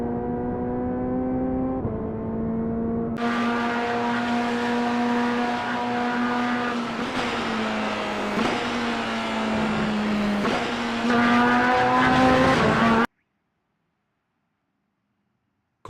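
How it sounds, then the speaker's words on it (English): Corvette GT3 race car engine in iRacing at Watkins Glen, a loud continuous harmonic drone climbing through the revs with sharp gear-change steps, alone without talk, then cutting off abruptly to silence. "Corvette and iRacing sounds absolutely ludicrous"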